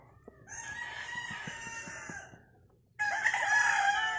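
White-legged Boston Roundhead gamefowl rooster crowing loudly nearby, two long crows separated by a brief pause, with faint clucks underneath.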